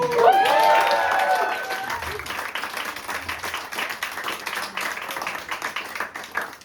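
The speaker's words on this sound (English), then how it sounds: "let's give a big round of applause to Lane and Katie for the food." A crowd breaks into applause, dense clapping that stays steady and fairly loud throughout, with a voice rising briefly over it at the start.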